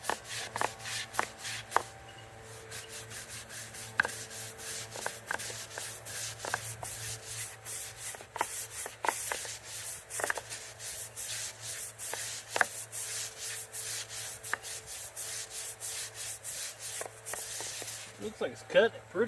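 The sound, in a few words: scrubbing a part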